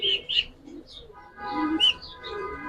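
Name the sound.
pigeons cooing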